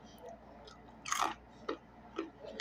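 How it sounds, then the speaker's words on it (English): Crunchy homemade candied almonds bitten and chewed close to the mouth, one sharp crunch followed by a few softer, crackly chews, fairly quiet, with no speech. "Nice crunch."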